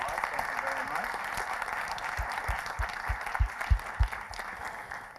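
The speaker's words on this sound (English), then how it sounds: "Let's give Zargam a round of applause." An audience claps for a presenter on a live-streamed conference main stage, a moderate scatter of applause under a background of voices, with several sharper low thumps toward the end.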